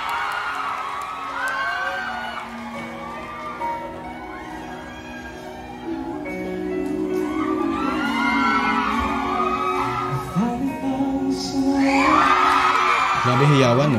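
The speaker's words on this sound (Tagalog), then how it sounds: "Grabe hiyawan, no?" A live concert audience screams and cheers for the performers, high shrieks and whoops rising in waves over the music and growing louder and more frenzied toward the end.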